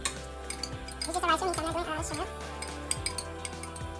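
Shrimp are tossed with seasoning in a pan, a utensil clinking and scraping against the cookware in light, irregular taps while a person talks over the mixing.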